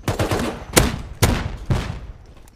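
Rapid gunfire in the video game Rust during a fight on the Oil Rig: several loud, close bursts of shots in quick succession, fading toward the end.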